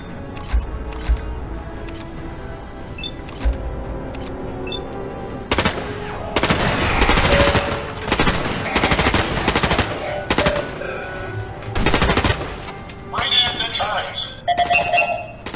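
Turret gunfire in Fallout 4 Automatron arrives as loud bursts of rapid shots with sharp impacts and beeps between quieter stretches, with a voice talking over the game.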